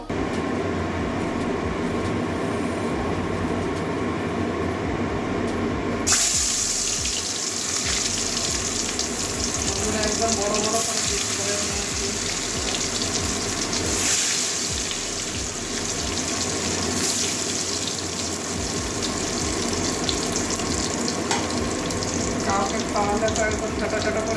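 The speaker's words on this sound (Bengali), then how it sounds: "এবারে কড়াই সরষের তেল ঢেলে নিচ্ছি তেল গরম হয়ে গেছে এবারে ডিমগুলো বেজে নেবো" Eggs frying in hot mustard oil in a wok, a steady loud sizzle running throughout with a sharp change partway in as the eggs hit the oil, bubbling and crackling close by.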